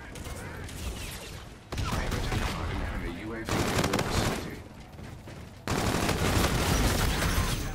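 Rapid gunfire from the Claw weapon in the game Call of Duty Infinite Warfare, loud bursts in four separate segments with abrupt cuts between them, under game effects and no clear talk.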